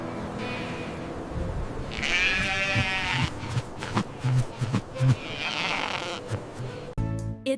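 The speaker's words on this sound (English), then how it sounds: "It's a sheep." A sheep bleats in two long wavering calls, close and clear, over a background of farm animal rustling and clatter.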